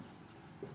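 A marker or chalk writing on a board during an algebra lesson, a brief, soft, steady scratching stroke heard up close and alone.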